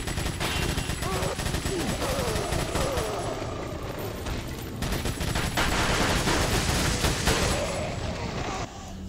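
Rapid gunfire rattles steadily through a Resident Evil 4 Assignment Ada level, dense repeated shots mixed with game noise over nine seconds, with a voice talking now and then underneath.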